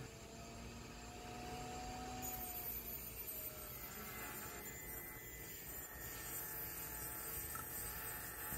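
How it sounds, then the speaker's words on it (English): A Piranha II tungsten grinder runs with a steady high whine and faint hum as a tungsten electrode is ground to a taper, fairly quiet and continuous throughout. "I'm going to turn the machine on, and then I'm going to slide the tungsten in and just constantly rotate it in my fingers"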